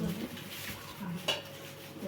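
Pieces of a dinner set clink and rattle quietly as dishes and ladles are handled. One sharper metallic tap stands out against the faint background.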